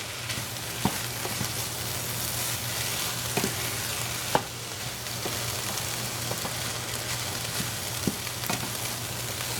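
Ham hash with cabbage and apples sizzles steadily in a pan, while periodic scrapes and knocks from stirring sound through the constant frying hiss, no voices.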